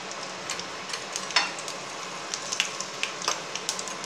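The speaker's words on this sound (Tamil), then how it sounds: "கடுகு பொரியுது." Mustard and fenugreek seeds splutter in hot oil while tempering for a bitter gourd tamarind kuzhambu. A soft continuous sizzle is broken by scattered sharp pops and crackles at irregular intervals.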